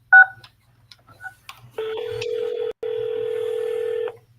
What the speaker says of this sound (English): If you know your party's extension, you may dial it at any time.